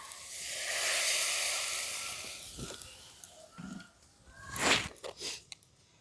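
Water splashed into a pan of frying vegetable mixture for vegetable luchi gives a broad hiss that swells and fades, followed by a few softer bursts and clatters near the end.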